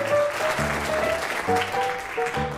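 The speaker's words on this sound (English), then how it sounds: "let's give all our guest callers a round of applause tonight" Applause for guest callers at a retiring pastor's variety-show evening, a steady clatter of clapping with organ or keyboard tones sounding through it.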